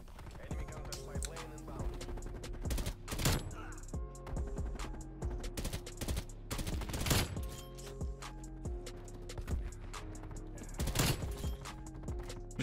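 Video game rifle fire in repeated three-round bursts, sharp clustered cracks popping at irregular intervals over a steady game backdrop, fairly close and crisp.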